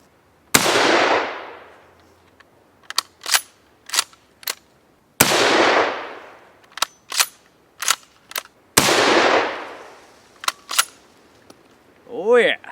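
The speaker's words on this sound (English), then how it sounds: "Let's shoot some more." Three loud gunshots from a Nagant revolver, each with a long ringing decay, spaced a few seconds apart, with sharp mechanical clicks of the action between them.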